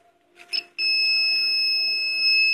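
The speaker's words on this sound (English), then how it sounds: "So guys, this is a door alarm." A homemade door alarm blares a loud, steady high-pitched electronic tone that starts abruptly after a couple of brief faint chirps and holds continuously to the end.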